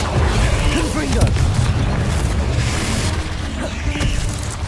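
Confringo spell explosions in the Hogwarts Legacy video game, deep booming blasts and crackling bursts over a low rumbling game backdrop, with a voice faintly present.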